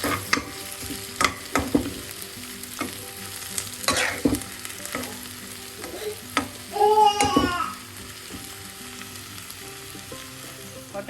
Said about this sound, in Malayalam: എല്ലാം കൂടെ വീണ്ടും നല്ലപോലെ മിക്സ് ചെയ്യുക ഇടയ്ക്കിടയ്ക്ക് നമുക്ക് ഇളക്കി കൊടുക്കാം